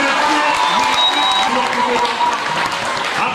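A crowd applauds and cheers loudly and continuously at a live event, a dense wash of clapping with voices calling out underneath and a faint tone running through it.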